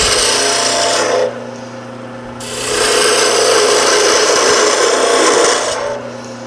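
A spindle gouge cuts into spinning wood on a lathe, giving a steady rough scraping rasp over the motor's hum, briefly easing off, then cutting again for several seconds with no talk.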